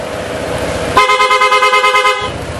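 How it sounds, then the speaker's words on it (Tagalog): Stock horn on a Honda PCX160 scooter giving one loud, steady honk of a little over a second, close to the microphone. "Stock horn."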